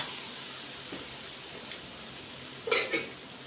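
Wide rice noodles stir-fried in a pan for pad see ew, a steady close sizzle with soft stirring scrapes and a couple of brief utensil knocks toward the end.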